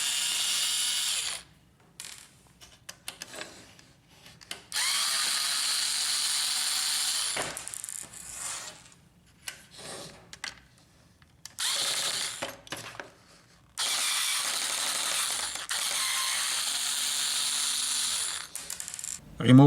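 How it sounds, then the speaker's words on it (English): A screwdriver ratchets in repeated bursts while three screws come out of a Samsung CLP320 printer transfer belt unit, close and clear with short quiet gaps between the clicking runs. "Remove the 3 screws."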